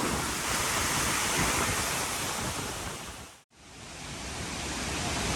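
Strong wind and water spray roar close by at Khlong Lan waterfall, a loud, continuous broadband rush that cuts out abruptly for an instant before resuming.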